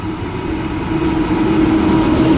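Steel freight train led by locomotive NR48 rolling past a station platform at Bargo, a loud continuous low rumble and engine drone that builds slightly, with no voices.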